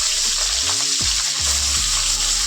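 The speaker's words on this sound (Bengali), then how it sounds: "দিয়ে তো মাছগুলোকে লাল লাল করে ভেজে নেব।" Rohu fish pieces rubbed with salt and turmeric hiss in hot oil, a steady, close sizzle running unbroken with faint bubbling and a few soft clinks.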